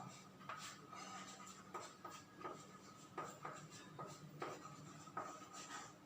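Chalk or marker writing on a board in a physics classroom, faint repeated scratchy strokes in short bursts at an uneven rhythm, with a low voice murmuring in the background.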